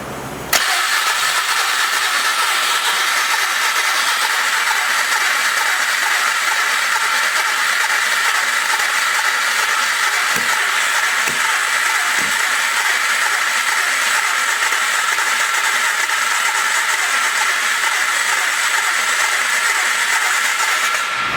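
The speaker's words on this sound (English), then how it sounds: "It spit back through the carburetor a little bit" A Polaris 325 ATV engine cranks over continuously and loudly up close in a steady broadband whir, with a few brief pops as it spits back through the carburetor.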